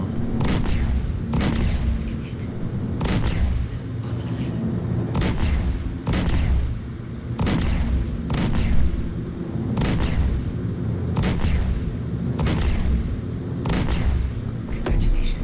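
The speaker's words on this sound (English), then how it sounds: "Congratulations. Target is destroyed." A target is blown up in the Star Citizen space game, heard as a steady series of evenly spaced heavy booms over a constant low rumble.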